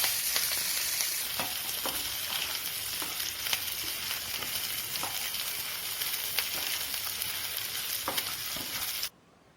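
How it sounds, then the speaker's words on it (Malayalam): Shallots and dried red chillies frying in oil produce a continuous crackling sizzle with occasional stirring scrapes, fairly close and steady, before cutting off abruptly near the end. "നമ്മുടെ ചെറിയ ഉള്ളിയും വറ്റൽമുളകും കൂടെ എണ്ണയിലിട്ടൊന്ന് വറുത്തെടുക്കാം."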